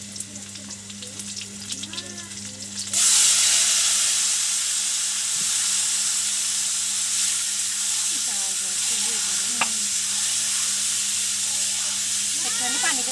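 Khichuri ingredients, starting with cumin, drop into hot oil in a village kitchen and burst into a loud, steady sizzle and hiss with occasional stirring, after a quieter stretch where people talk.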